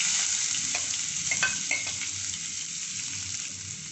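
Chopped ginger and garlic sizzle in hot vegetable oil with mustard seeds for a Sri Lankan cuttlefish curry, a steady close-up frying hiss with small crackles and a few stirring clinks, no voices.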